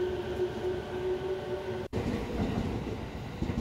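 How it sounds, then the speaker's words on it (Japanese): An Uchibo Line train departs Soga Station at night, rumbling steadily close by with a low rolling roar and faint wheel clatter, briefly interrupted by a sharp gap before the rumble resumes. "内房線千葉行きも発車していきます。"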